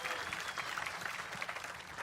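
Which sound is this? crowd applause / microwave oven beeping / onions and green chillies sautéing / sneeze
crowd applause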